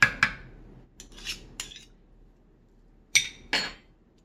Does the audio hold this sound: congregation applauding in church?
no